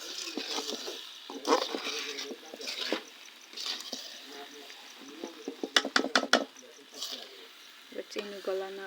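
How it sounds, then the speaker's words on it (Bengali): Tamarind pickle with sugar being stirred in a pan, with scraping and clinking of a spoon against the metal in uneven bursts, a cluster of sharper knocks near the middle, under intermittent talking. "চিনি গলা না পর্যন্ত এটাকে আমি একাধারে নাড়তে থাকবো।"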